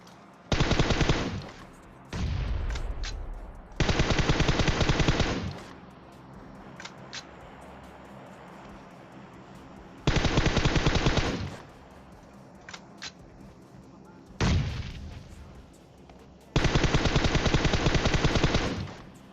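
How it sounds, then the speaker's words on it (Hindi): Rapid bursts of automatic gunfire in the video game PUBG come in several separate volleys, each a few seconds long, loud and close, with quiet gaps between them. "वो लोग बहुत जोर से गोलियां चलाते हैं"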